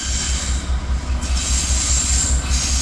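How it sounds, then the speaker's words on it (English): A long train rolls past close by on the tracks, a loud continuous rumble with wheel squeal and rhythmic clatter from the passing cars. "Okay, here comes the train."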